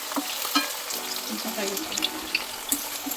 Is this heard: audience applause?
no